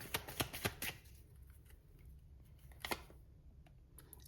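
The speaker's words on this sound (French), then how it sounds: "je vais tirer plus de cartes" Tarot cards shuffled and drawn by hand, a quick run of crisp riffling flicks and taps up front, then quieter scattered card slides and a soft snap later, close and alone.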